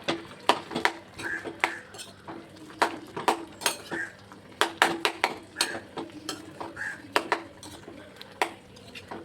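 A spoon stirs aviyal, a mixed-vegetable curry with ground coconut paste, in a metal pot for a Trivandrum-style sadhya. Irregular clinks and scrapes against the pot recur close by throughout, with no talk.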